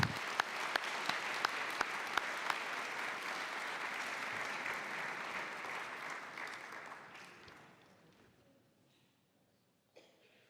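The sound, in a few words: audience applause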